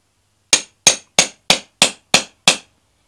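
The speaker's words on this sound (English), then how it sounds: "and hammer it in" Metal hammer striking an eyelet setting tool into gown fabric: seven sharp, evenly spaced blows, close and crisp, each ringing briefly with a clinking edge before silence.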